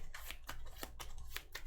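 Cards for a Marvel Champions encounter deck are dealt in a quick run of short, crisp swishes and flicks, four or five close-up strokes within under two seconds, with no talking.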